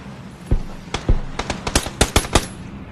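Video game gunfire in PUBG: a dozen sharp cracks, a few isolated shots and then a rapid cluster of bursts, loud and close with no talking.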